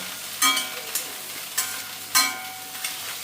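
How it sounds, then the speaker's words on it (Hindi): A spoon scrapes and stirs gravy in a pan in a home kitchen, giving four or five scraping strokes over a soft sizzling bed, close by. "ये देखिए इधर यहाँ ग्रेवी, इसको चला देता हूँ थोड़ा सा।"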